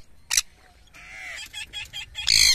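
A chicken clucks in short bursts outdoors, with a few sharper squawks at the start and end over faint background noise.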